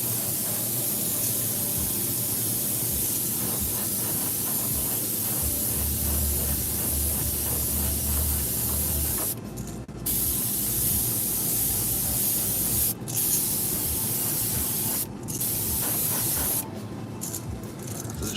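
An airbrush with a partly clogged nozzle sprays paint in a loud, steady hiss, close up, broken by a few short pauses near the end.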